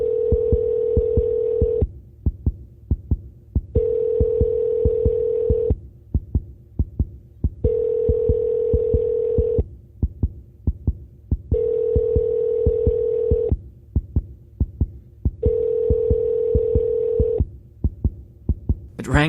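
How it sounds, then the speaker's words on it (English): A telephone line gives a loud, steady repeating tone in regular pulses of about two seconds with gaps between them, and a rapid high chirp at the very end. "So, she dialed a number."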